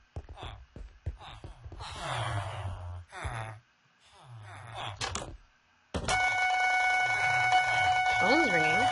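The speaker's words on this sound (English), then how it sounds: "Phone's ringing." In a Minecraft map game, a telephone rings as a bright repeating electronic tone that starts abruptly partway through and keeps going. Earlier, a person's voice and breathy sounds come in short bursts.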